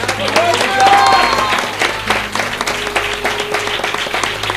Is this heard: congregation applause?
yes